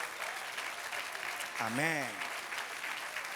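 Congregation applause in a church during a sermon, a steady wash of clapping with a voice briefly speaking over it partway through.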